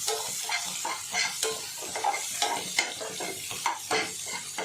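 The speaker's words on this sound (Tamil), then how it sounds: "இப்போ நமக்கு இங்கே வெங்காயம் தக்காளி எல்லாம் வதங்கிடுச்சு" Onions and tomatoes sauté in a pan while being stirred, giving a steady close sizzle broken by repeated scraping stirs in an uneven rhythm, with no talking.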